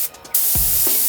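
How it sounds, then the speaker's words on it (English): A spray gun laying down base coat paint on metal gives a short, close hiss, starting with a brief burst and then a steady spray. "when you spray your base, you gotta be a certain distance"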